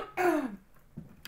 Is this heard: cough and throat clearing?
yes